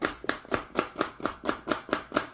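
A knife slices celery thin on a cutting board, about nine crisp, evenly spaced chops in quick rhythm, close and clear with no talking.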